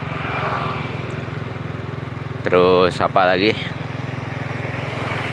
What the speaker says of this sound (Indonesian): Suara mesin nggak terlalu kasar sebenarnya.